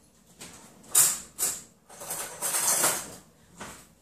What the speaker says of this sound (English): You're going to start by cracking one large egg right into your mug